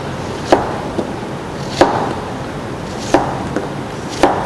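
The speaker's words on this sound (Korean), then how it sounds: "이 상태에서 바로 길쭉길쭉하게 무를 썰어 줄게요." A knife chops radish into long strips on a board for a yuzu pickle, giving four crisp, evenly spaced thuds with faint lighter taps between them, close and clear.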